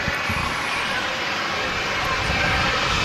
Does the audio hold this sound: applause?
no